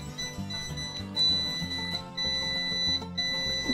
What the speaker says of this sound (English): Stop beeping at me! This is a still air incubator, I think.